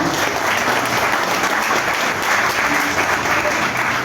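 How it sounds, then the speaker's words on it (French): A crowd at a political gathering in Côte d'Ivoire applauds Michel Bako, dense continuous clapping that stays loud and even from start to finish, with some voices mixed in. "Applaudissez donc Michel Bako."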